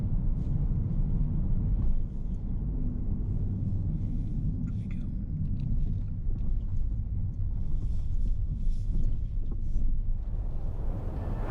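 Steady, strong wind roars and buffets across open moorland in Northumberland, a continuous low rumble with no pauses.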